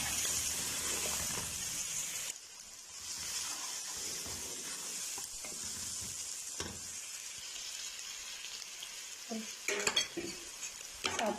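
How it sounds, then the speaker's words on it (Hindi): Green chilies sizzle and fry in a pan while a utensil stirs and scrapes them, a steady close hiss with clinks of metal and a few louder stirring knocks near the end. "एक मिनट के लिए हमने बस मिर्चों को भून लेना। अब डालेंगे हरी मिर्च,"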